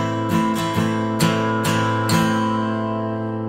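Acoustic guitar strummed in a House of the Rising Sun pattern in 6/8 time, six crisp chord strokes in an uneven lilting rhythm, close and clear, then the final chord rings out and decays alone.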